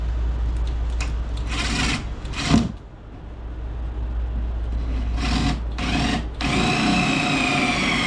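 A power drill bores a hole through a catfish bank pole fishing rod, a continuous whining grind with brief pauses and restarts, loud and close, with no talk over it.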